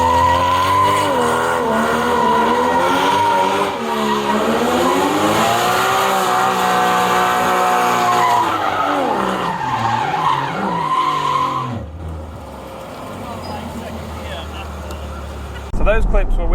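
Porsche Cayman GT4 on Michelin Pilot Sport 4S tyres skidding and sliding, with a loud, sustained engine note rising and falling under wavering tyre squeal for about twelve seconds, then dropping to a quieter rumble before a brief burst at the end.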